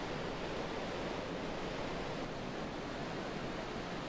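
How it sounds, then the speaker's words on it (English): The Provo River flowing in late spring, a steady, dense rush of water that holds an even loudness throughout with no breaks, heard alone without any voices. "and the Provo River, this time heading downstream."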